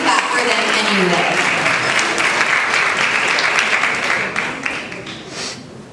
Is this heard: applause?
yes